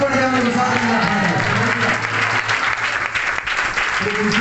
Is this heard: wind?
no